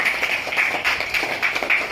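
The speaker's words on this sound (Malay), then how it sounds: "Murid-murid, sila beri tepukan kepada rakan kamu." Classroom applause as pupils clap for a classmate's reading, a short burst of steady, fairly close hand claps from a small group with no talking.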